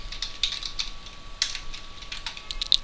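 A command is typed on a computer keyboard under Linux as a quick, uneven run of close, light key clicks with brief pauses between bursts.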